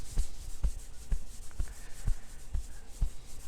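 Hands rub in a steady back-and-forth rhythm during a rub-your-belly, pat-your-head style coordination challenge, with soft brushing strokes landing about twice a second, close and moderately loud, with no talking.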